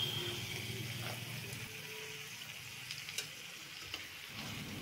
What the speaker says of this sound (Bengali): এবার ভালোভাবে মিশিয়ে নেব সমস্ত উপকরণগুলো।